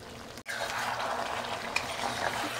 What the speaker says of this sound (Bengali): এখনো কষানো চলছে, দেখো মাটন থেকে কত জল বেরিয়েছে।